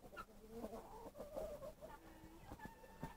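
Chickens cluck and chatter close by in short irregular bursts as they are fed in cold weather, with scattered clicks and rustling underneath.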